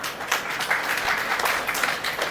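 An audience at a pension convention applauds in a soft, steady wash of clapping, moderately distant and continuous with no talk over it.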